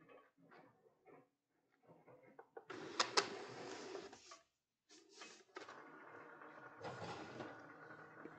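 A Cricut vinyl cutting machine draws a cutting mat in under its rollers and guides, giving bursts of mechanical whirring and clicking broken by short pauses, fairly close and moderately loud.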